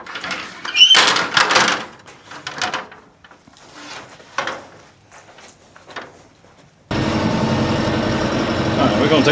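A John Deere 5100M tractor engine idling, a steady loud rumble that starts abruptly near the end after door and handling clatter and someone speaking.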